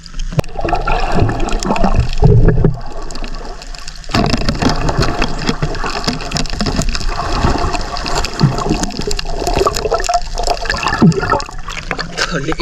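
Water sloshes and splashes loudly around a small boat at sea, with churning, gurgling surges close by, a brief quieter lull, then steady splashing again, and voices faintly mixed in.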